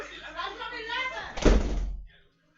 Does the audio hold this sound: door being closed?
yes